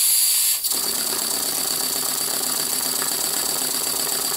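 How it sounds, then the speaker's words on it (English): A Stuart Model 2A oscillating model steam engine runs steadily on compressed air, a rapid mechanical chuffing and hissing close by after a brief initial burst of air. "He's a steam engine, but we're running him on compressed air."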